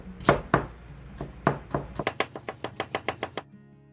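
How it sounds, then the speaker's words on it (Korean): A knife finely chops zucchini on a board: a few slow, spaced strikes give way to a quick, even run of about a dozen crisp, close knocks. "호박도 잘게 썰겠습니다."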